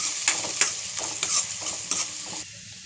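Two onions frying in a pan sizzle steadily while being stirred, with a run of scraping strokes roughly every half second close by, then the stirring stops and only the soft sizzle remains, with no talking.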